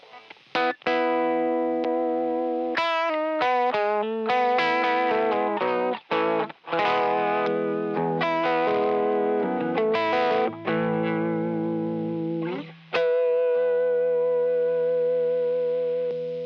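Electric guitar played through a warm-toned effects pedal on a pedalboard, a run of picked notes and chords with a thick, slightly distorted chorus-like shimmer, close and steady, ending on long sustained ringing notes.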